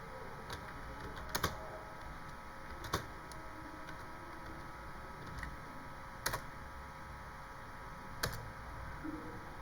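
Scattered keystrokes on a computer keyboard tap out a short line of input, sparse clicks over faint steady background hum, with no talk.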